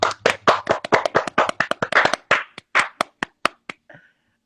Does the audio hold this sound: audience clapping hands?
yes